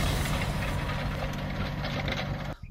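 Tractor engine running steadily while ploughing over a three-acre onion field on a farm, a continuous loud rumble that cuts off abruptly near the end.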